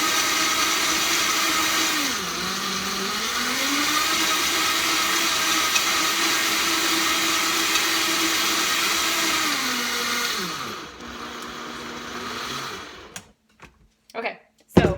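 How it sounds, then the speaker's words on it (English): A countertop blender whirs through a Shakeology smoothie with a loud, steady motor whine that dips and recovers in pitch a few times. It then winds down and cuts off, followed by a few brief knocks. "I'm gonna let this blend here real quick."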